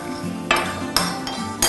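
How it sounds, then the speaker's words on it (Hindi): A spoon mixing curd with orange juice in a small bowl, three crisp clinks of metal against the bowl among soft stirring scrapes, close and alone. "इसमें मैं 1 चम्मच ऑरेंज जूस मिक्स करूंगी"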